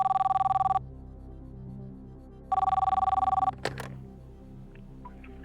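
A telephone rings for a call to Shimla on a TV quiz show, two clear electronic ring bursts separated by a pause, loud and alone, followed by a brief click as the line connects.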